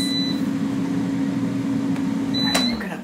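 An Omorc air fryer hums steadily at close range while two short high beeps sound apart as cooking finishes, the fan winding down after the second beep.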